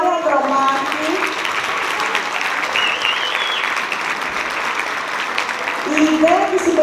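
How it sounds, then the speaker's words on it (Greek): A Greek community association's audience at a Christmas carols finale gives sustained, loud applause for several seconds, a continuous wash of claps with a speaker's voice running over it. "Να ευχαριστήσουμε ένα πολύ δυνατό χειροκρότημα τη δασκάλα του Συλλόγου μας"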